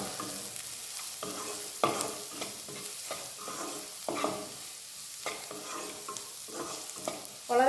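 A pan on the stove as homemade garam masala powder is stirred in, with repeated scraping strokes of a spoon against the pan over a soft frying sizzle, fairly quiet and steady throughout.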